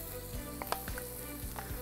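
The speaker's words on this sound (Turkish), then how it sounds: "Şimdi bakayım tavuğum için kızmış mı burası? Aynen öyle. Bu cız sesini duymanız lazım." Chicken pieces sear in a hot pan with no oil, giving a steady, close sizzle with occasional sharp pops and stirring knocks.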